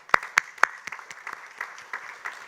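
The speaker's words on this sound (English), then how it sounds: "So kudos to all the women and clap for them." Sparse applause from a small audience at a healthcare meeting, a few sharp, close hand claps at the start followed by scattered, softer clapping that thins out.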